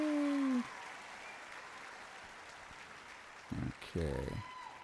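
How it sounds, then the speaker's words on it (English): Audience applause at a Video Games Live concert, faint and distant as a soft, steady patter, with a voice speaking briefly before and after. "Everybody clap."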